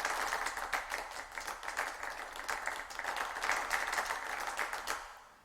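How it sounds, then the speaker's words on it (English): A clapping sound effect plays as a dense, steady round of applause, many hands clapping together for several seconds before fading at the end. "I can do claps"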